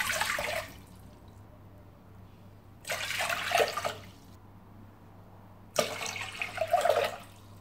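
Water is poured from a bowl into a large pot of ragi flour for traditional koozh, three separate splashing pours a few seconds apart, each loud and close, with quiet gaps between.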